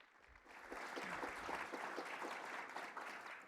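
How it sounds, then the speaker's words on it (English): A gathered audience gives itself a round of applause at an evening policy event: a faint, steady patter of clapping from a moderate crowd that swells after half a second and holds evenly to the end. "Please give yourselves a round of applause."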